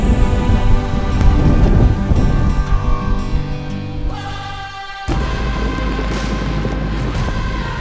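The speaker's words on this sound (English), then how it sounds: "It's raining now." Steady rain with thunder rumbling loud and close, a deep roll swelling and then breaking into a sharp crack midway, over the continuous hiss of falling rain.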